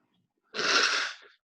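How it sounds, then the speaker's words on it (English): A single short, forceful sneeze bursts out once, close to the microphone, after a moment of quiet, from a person at a desk with a cat nearby. "So sorry for the sneezing."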